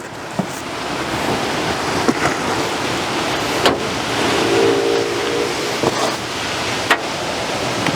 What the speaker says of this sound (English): it's extremely windy today